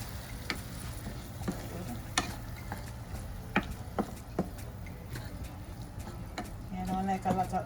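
Ackee and saltfish stirred in an oiled pan, soft sizzling under sharp scrapes and taps of the spoon, with louder frying near the end as the ingredients are mixed together.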